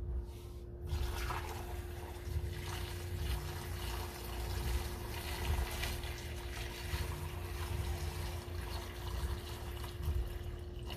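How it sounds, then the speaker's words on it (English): Distilled water is poured into the radiator of a 2015 Corvette C7 Stingray during a coolant change. A steady, close gurgling pour runs throughout, with bubbling as the system burps air, and no one speaks. "Now we're on to our distilled water. And now you just pour this in until it overflows."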